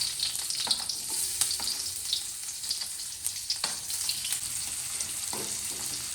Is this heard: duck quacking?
no